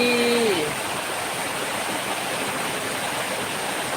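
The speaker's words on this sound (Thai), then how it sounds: "เสียงน้ำแหงบ่" Floodwater rushing steadily in a flooded area of Vang Vieng, Laos, a constant broadband roar like a stream or waterfall, with a brief whistle-like tone at the start.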